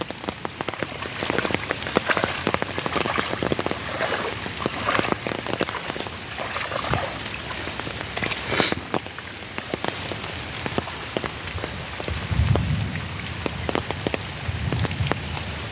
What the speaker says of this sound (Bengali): শস্য শেষে কিছু মেঘের গর্জন শোনা যায় এবং শুরুতেও শোনা যায়